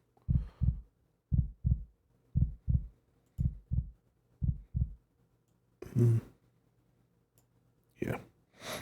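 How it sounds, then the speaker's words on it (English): Synthetic heartbeat sound effect from a Voicemod soundboard, a steady, close, loud double-thump pulse repeating about six times, followed by a couple of brief louder bursts near the end. "Heartbeat, you never know."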